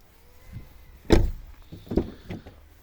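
A car door clunks open with a solid thump, followed by a couple of softer mechanical clicks and knocks, no voices.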